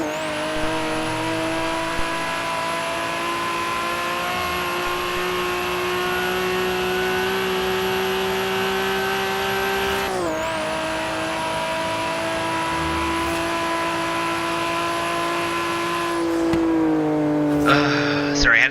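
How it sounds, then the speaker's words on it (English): Nissan Skyline R31 engine in Forza Horizon 3 holds a loud, steady high-revving drone with rich harmonics, one brief dip and recovery midway, then a shift in pitch near the end, with occasional talk under it. "This car is just that nice sounding."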